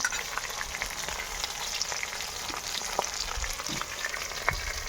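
Fish fried in a pan until red and crisp, a steady, fairly loud sizzle with crackly spits scattered through it, and no voices.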